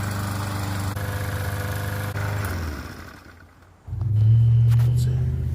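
Yard Machine push lawnmower with a Briggs & Stratton engine runs with a steady low drone, dips briefly as if stalling or throttling down, then returns louder and fuller; no one speaks.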